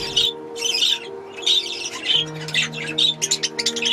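Parakeets squawking repeatedly in sharp, harsh bursts, close by, with a steady low background hum underneath.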